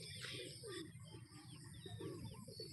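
Racing pigeons arriving back at the loft after a training toss in Norzagaray, Bulacan, coo softly amid scattered chirps and bird calls, with a steady outdoor background throughout.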